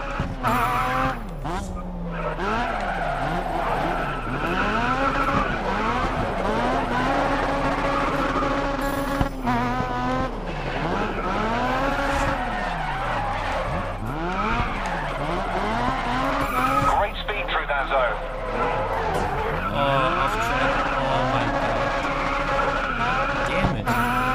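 Race car tires squealing and locking under braking in GRID Autosport, with repeated wailing skids over a steady engine drone and a voice talking throughout.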